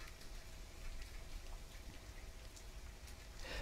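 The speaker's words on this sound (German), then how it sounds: "Und es regnet." Steady rainfall in the survival video game The Forest, a continuous soft patter of drops hitting surfaces at a constant, even level throughout with no voices.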